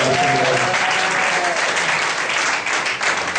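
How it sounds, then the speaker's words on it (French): A church congregation claps steadily and loudly for a prophet at a Sunday service, a dense, continuous wash of applause that holds for several seconds without pause. "Nous allons acclamer ce prophète"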